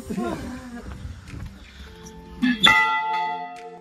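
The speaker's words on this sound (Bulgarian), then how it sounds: "Стига с тия камбани." Large church bells struck by hand, with people talking at first, then a loud strike or two ringing out near the end and leaving sustained, humming tones that slowly decay.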